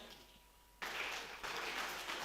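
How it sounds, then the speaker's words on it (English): Applause from an audience at a keynote address breaks out suddenly after a quiet pause, a steady dense wash of clapping that continues to the end, moderately faint and without speech. "A big round of applause, everyone."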